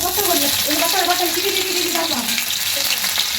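Loud, close frying in oil, with a dense continuous sizzle and crackle throughout; a voice seems to murmur faintly underneath.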